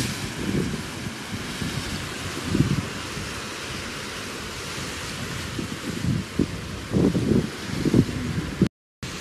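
Wind blowing outdoors in gusty, rumbling bursts against the microphone over a broad, steady hiss, with a brief dropout near the end; no speech.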